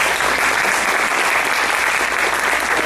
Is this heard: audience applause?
yes